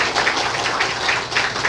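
A church congregation applauding at a deacon ordination ceremony in Tongyeong: dense, steady clapping from many hands fills the room at even loudness, with no voices.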